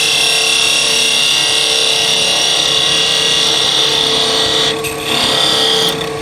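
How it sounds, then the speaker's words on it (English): A skew chisel scrapes a spinning wooden top on a lathe, a loud steady whirring hiss with a high whine throughout and brief dips where the tool lifts away near the end. "I'm scraping."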